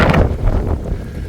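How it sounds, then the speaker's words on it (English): Wind buffets a microphone outside a van on a rainy day, a brief burst of low rumbling gusts that fades slightly over a second or so. "Now it's windy."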